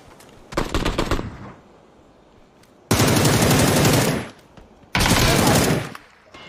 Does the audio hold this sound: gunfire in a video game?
yes